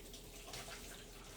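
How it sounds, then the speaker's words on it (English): Running tap water pours steadily over raw chicken being rinsed, a continuous soft splashing wash that stays fairly quiet and even throughout with no talking. "I like to kind of rinse that off"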